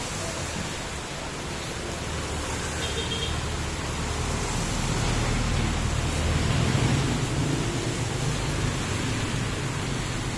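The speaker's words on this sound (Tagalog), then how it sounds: "Ang lakas ng ulan." Heavy rain pours steadily in a dense, even hiss, loud and close, with a low rumble of passing road traffic underneath and no talk.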